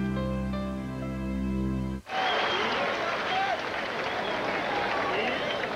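A large crowd roars and cheers in a baseball stadium at a Phillies versus Mets game, a loud, sustained wash of noise that bursts in abruptly after a short musical tone, with a commentator's voice over it.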